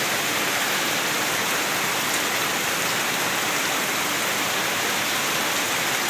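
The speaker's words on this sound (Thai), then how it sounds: "ฝนตกตัวถึงเฉพาะพี่น้องเอ้ย" Rain falls steadily in a dense, even hiss of countless drops on surfaces, continuous and fairly close with no voices over it.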